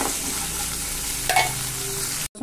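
Continuous hiss of spices tempering in hot oil for a chickpea curry, steady and close, with a brief clink near the end before it cuts off.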